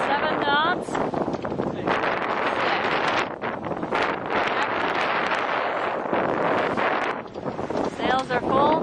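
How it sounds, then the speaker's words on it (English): Wind buffets a sailboat under full sail at about 7 knots on an Atlantic crossing, a steady loud rushing roar across the mic with gusty swells, while a voice talks over it. "We have wonderful wind."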